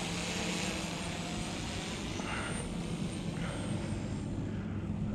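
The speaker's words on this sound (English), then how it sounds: "I'm gonna take off very quickly and transition to forward, half forward fly very quickly" A model V-22 Osprey tiltrotor flies forward, giving a steady faint whine and buzz of small electric rotors, constant and distant with no talk.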